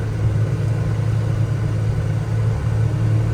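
A 1981 Jeep CJ-7 Laredo with a 4-speed crawls along in first gear in 4 low, its engine giving a steady, loud, low rumbling drone with no rise or pause throughout.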